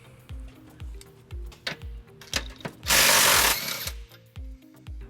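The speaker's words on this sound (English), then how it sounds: "we're going to remove this bolt on the bottom of the frame rail. We're going to use an 18mm socket." An 18mm socket on a ratchet removing a bolt on the bottom of the frame rail of a 2008 Dodge Nitro: rapid, close, rhythmic ratchet clicks, broken by a brief loud whirring burst midway.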